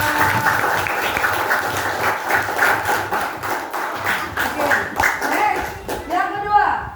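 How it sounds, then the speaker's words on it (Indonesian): Students in a classroom clap together in a steady round of applause, with a voice briefly rising over the clapping near the end. "Tepuk tangan untuk kalian semua."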